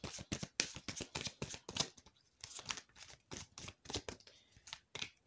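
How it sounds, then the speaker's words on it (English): Tarot cards being shuffled by hand, a close series of crisp riffling and slapping bursts in uneven rhythm, loud and dry with brief pauses between shuffles. "I'm shuffling the tarot"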